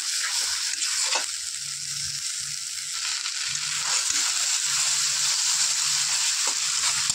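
Food sizzles steadily in a hot pan as curd-based paneer curry with red pumpkin flowers fries, with a few scraping stirs cutting through the constant crackle.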